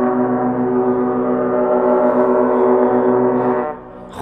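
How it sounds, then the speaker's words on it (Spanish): A ferry's deep horn sounds on arrival at a village by a fjord in the far north of Europe, with a steady, loud blast held for about three and a half seconds before it fades away. "ya se ha despertado con las bocinas de llegada del ferry"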